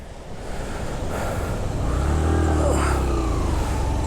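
A motorcycle with five-year-old worn clutch plates strains uphill on the Naltar Valley road, its engine droning and rising in a sustained rev near the microphone, mixed with rough wind and road rumble.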